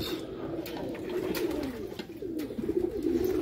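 Pigeons coo steadily in low, rolling, overlapping calls, close by and continuous, with faint background noise.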